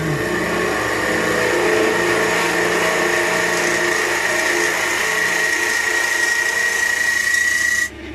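A lathe gouge makes a continuous scraping, rasping cut into spinning spalted beech, steady and loud with a high ringing tone, stopping abruptly near the end.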